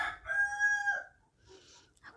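A rooster crows once in a drawn-out cock-a-doodle-doo, fairly close and clear, followed by a quieter rustle and a brief soft noise.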